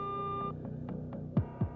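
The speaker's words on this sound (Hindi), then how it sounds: "वो लगातार शनाया को फोन लगाता रहा मगर उसका फोन नहीं लगा।" A phone call that will not connect, with an electronic tone followed by a few soft pulsing beeps and thumps, quiet and close, with no one talking.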